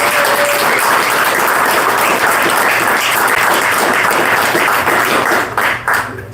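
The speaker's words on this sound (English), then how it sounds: "If you guys can give him a really big round of applause." Bookstore audience applauds warmly for author S.L. Price, a dense, loud burst of clapping that holds steady before thinning out to a few scattered claps at the end.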